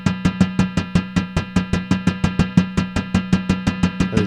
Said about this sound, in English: Detune drift sounds like this.